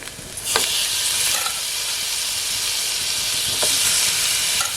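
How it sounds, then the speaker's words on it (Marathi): Wild gometi vegetable is frying in a pan with roasted goda masala, giving a loud, continuous sizzle and hiss, with a couple of brief scraping stirs near the start and end. "गोडा मसाला परतून घेतलाय आता भाजी घालूया"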